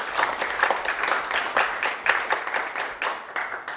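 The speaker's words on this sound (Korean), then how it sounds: "큰 박수 한번 해주시면 좋겠습니다" A congregation at a church founding thanksgiving service applauds. The clapping comes in moderately loud, uneven waves from a sizable crowd in a hall and swells and fades over a few seconds, with no speech on top.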